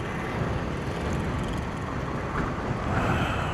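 Steady, loud wind rushing across the microphone in a Philippine city, a constant broadband roar with slight gusty swells, no voices.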